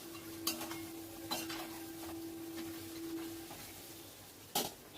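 Mutton for a Kolkata-style biryani is stirred in a cooking pot over medium-low heat, with a few distinct metallic clanks of the spoon against the pot over a faint sizzle and low background hum.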